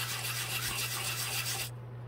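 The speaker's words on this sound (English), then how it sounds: "And then you just finish sanding that up." Short, close back-and-forth rasping as a small model cooler is rubbed on sandpaper, with steady scratchy strokes that stop abruptly near the end.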